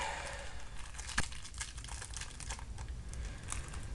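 Soft, steady crinkling of thin plastic being handled close by, with a few sharper crackles over a low background hiss.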